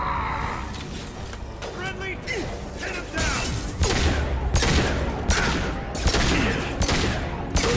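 Gunfire during a shootout on stairs in Mass Effect 2, repeated bursts and sharp shots with metallic clatter, loud and continuous, with people talking over it.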